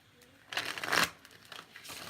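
A brief papery riffle of tarot cards being shuffled, a quick burst of crisp flicking followed by a few faint taps and soft rustles.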